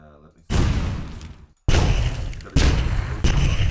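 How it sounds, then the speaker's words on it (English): A series of loud explosion effects plays back in Unreal Engine 4. Each blast is a sharp boom followed by a rumbling decay, four in quick succession, with brief cutoffs between them. "The sound is going to be an explosion. We have explosion sounds in here."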